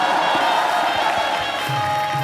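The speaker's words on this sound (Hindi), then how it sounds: "तालियां बजाना।" Studio audience at a comedy talk show clapping and cheering in a steady, continuous wash of applause with some voices mixed in.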